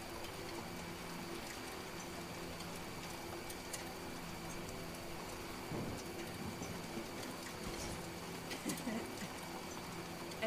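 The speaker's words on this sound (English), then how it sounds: "I say that as it starts to rain." Steady rain falls in the Death Stranding game world, a continuous soft hiss at low level with faint patters throughout, no voices over it.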